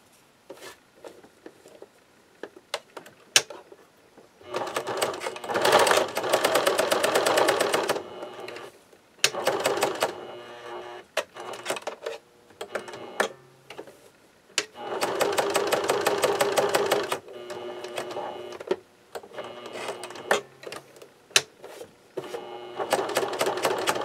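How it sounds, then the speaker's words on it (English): Sewing machine stitching the soft side of Velcro onto a fabric flap for a medical device belt, running in several sustained bursts of rapid mechanical stitching separated by pauses with small clicks and handling noises. "I'm going to take the soft side and I'm going to sew it to the flap this way"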